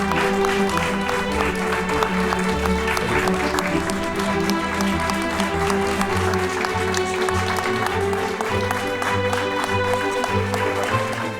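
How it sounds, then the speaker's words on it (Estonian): Sustained applause fills a hall at a young masters' competition for bricklayers, a dense continuous clapping from a large crowd lasting the whole time, with a faint musical tone underneath. "palun eriti suur aplaus uuele noorele meistrile Allarile"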